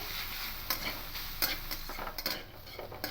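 Watermelon rind being stirred in a pan over a low flame: a spoon scrapes and clinks against the metal in irregular strokes above a soft, steady sizzle, close and moderately quiet, with no talking.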